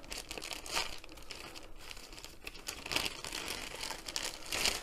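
A glued plastic bag holding a diamond painting canvas being pulled open, with close crinkling and crackling bursts of plastic rising and falling throughout, no voice over it.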